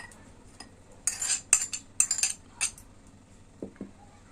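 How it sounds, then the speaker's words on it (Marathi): A spoon clinks and scrapes against a bowl as curd and grated cucumber are stirred together for raita, a handful of sharp close metallic taps in quick succession. "आता आपण याच्यामध्ये दही आणि काकडी मिक्स करून घ्यायची आहे"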